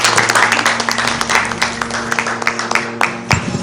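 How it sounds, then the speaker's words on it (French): An audience breaks into steady applause at the close of a French-language broadcast interview, many hands clapping together with a few louder claps standing out, sustained throughout. "On applaudit"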